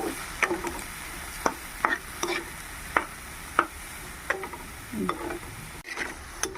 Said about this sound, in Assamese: অকণমান লৰাই যেতিয়া পিঁয়াজখিনি অকণমান লেৰেলি যোৱা নিচিনা লাগিছে